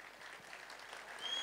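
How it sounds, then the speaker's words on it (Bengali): Audience clapping at a Boishakhi Milan Utsav stage event, a faint steady patter of many hands from a distance that grows slightly louder toward the end. "এই হাততালি আরো জোরে।"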